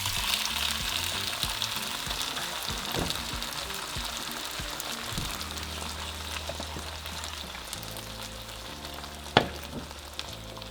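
Beans frying in hot oil for pupusa filling, a steady broadband sizzle filling the whole stretch with a few soft clinks and one sharp knock near the end, no voices.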